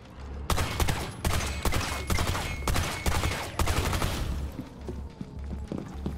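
Rapid bursts of gunfire in the video game Rainbow Six Extraction, loud repeated volleys with brief gaps, over a pulsing low game soundtrack and no talking.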